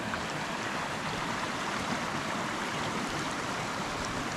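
A river running right beside a campsite gives a steady, even rush of flowing water, constant and moderately quiet, with no voices over it.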